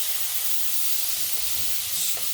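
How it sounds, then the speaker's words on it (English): Reconstituted powdered milk is poured into a hot pot of potato bacon soup, a steady loud sizzling hiss without pause throughout. "We got our 2 cups of reconstituted powdered milk, and I'll start adding this in"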